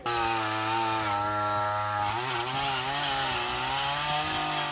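A chainsaw cuts into a fallen African mahogany tree, its engine droning loud and steady at close range, with the pitch shifting and bogging slightly as the chain bites into the timber. No voices are heard.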